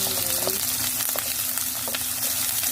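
Onions frying and spitting in hot oil, a steady close sizzle with scattered sharp pops and splatters throughout.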